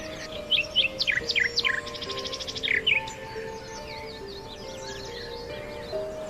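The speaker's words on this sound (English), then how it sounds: "Keats imagines the birdsong echoing through time" Nightingale-like birdsong in bright, repeated trilling phrases and rapid descending notes, strongest early on and thinning later, over a steady backdrop of other birds and a faint insect hum.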